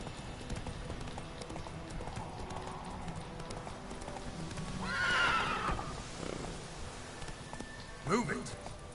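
A horse in The Witcher 3 neighs loudly in a single whinny midway through, over running hoofbeats, with a brief clatter near the end; a voice speaks briefly.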